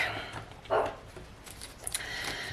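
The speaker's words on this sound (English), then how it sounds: "And you can hear my pug in the background barking" A pug barks once in the background, a short muffled bark followed by faint yips, set against quiet room noise.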